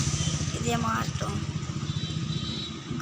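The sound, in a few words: auto rickshaw engine idling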